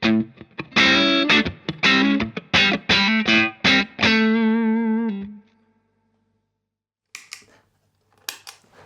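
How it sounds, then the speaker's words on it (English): An electric guitar played through a Free the Tone Fire Mist low-gain overdrive pedal strums a run of crisp rhythmic chords, the last one ringing out before silence and a few faint picked notes. "So this is the Free the Tone Fire Mist"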